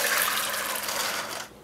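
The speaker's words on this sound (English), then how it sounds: "Soak the flageolet beans for at least 12 hours and then strain them." Water from soaked flageolet beans pours and drains steadily through a strainer, a close broadband rush that stops abruptly near the end, leaving quiet.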